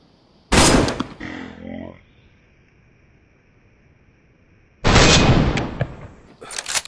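Gunfire during a raid in a video game: a loud broadband blast near the start, a short trailing rumble, then a long quiet gap before another loud burst of shots near the end.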